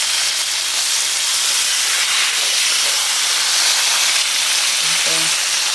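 Steaks sizzle loudly in a hot pan as they are turned over, a strong, steady hiss that fills the whole time, with a short knock near the end.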